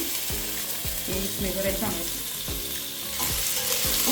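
Ingredients for a simple biryani fry in a pan with a steady, close sizzle, broken by quick rhythmic scrapes of a spatula being stirred through the mix.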